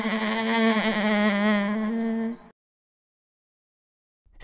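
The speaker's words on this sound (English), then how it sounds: "Llama." A single long, quavering bleat-like llama call rings out loud and close for over two seconds, then cuts to silence.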